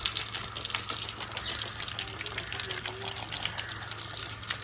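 A running water pump motor gives a steady low hum under a constant gush of flowing water, fairly faint, with some voices in the background.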